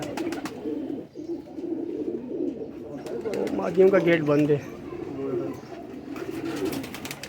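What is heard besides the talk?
pigeons cooing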